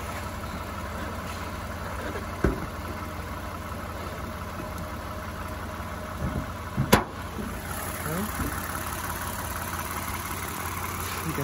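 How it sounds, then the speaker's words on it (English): A 2012 Lexus RX350 engine idles under an open hood, a steady low running hum with a few soft knocks and clicks, heard alone at moderate distance. "You can see the engine is running fine, no issues there."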